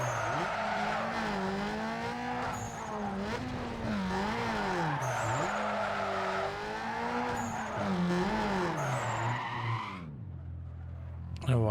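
Car drifting in Need for Speed Underground 2: a revving racing engine wails up and down continuously while tires squeal through long skids, fading to quiet near the end.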